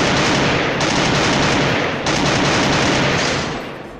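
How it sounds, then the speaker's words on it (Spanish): Dense, continuous gunfire from the video game Free Fire, loud and sustained throughout with overlapping rapid shots and bursts, thinning slightly toward the end. "Los balazos que se están armando."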